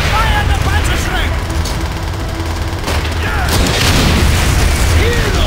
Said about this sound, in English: Fire the Panzer Shrek! Use the rockets!